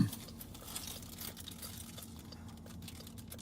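Crinkling plastic wrapper handled close by during a police patrol, a dense stream of soft crackles and rustles at low level over a steady background hum.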